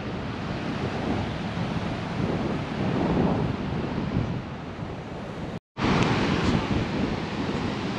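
Continuous roar of surf washing onto a beach on Hawaii's Big Island, loud and broadband, with wind buffeting the microphone and a brief dropout partway through.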